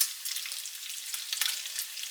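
Bacon sizzles and crackles steadily in a cast iron pan and a non-stick frying pan, a bright hiss of fat with small pops, close and fairly quiet, no talk.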